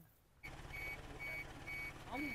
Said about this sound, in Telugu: మనం ఫ్రంట్ లో బీప్ సౌండ్ వస్తుంది అనమాట.